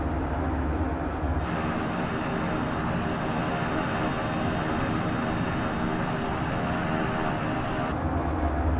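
Steady engine drone of a Diamond DA42-TDI twin-engine aircraft in a flight simulator game, a loud continuous hum with a tonal whine that shifts slightly partway through.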